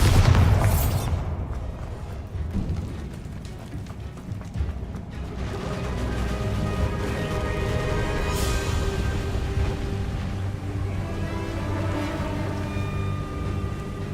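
A Bombarda spell explosion in the video game Hogwarts Legacy bursts as one loud, close boom at the very start, then fades into a steady low rumble of game ambience with no talking.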